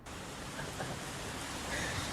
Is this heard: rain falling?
yes